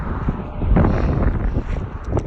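Wind blows outdoors on a long-distance hiking trail, buffeting the microphone with a steady low rumble and uneven gusts.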